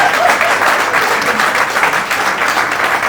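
Audience at a Hindi kavi sammelan poetry event in Lucknow applauds steadily, a dense, loud wash of clapping that holds for the whole stretch with no break.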